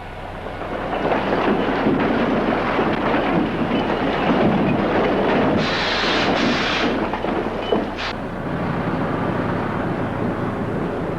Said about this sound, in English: Trains haul it to the main ore pass,